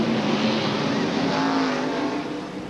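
A race car pulls away from pit road during a caution at a 1998 NASCAR Busch Series race, its engine droning loud and steady with a sustained tonal whine throughout, fading slightly at the end.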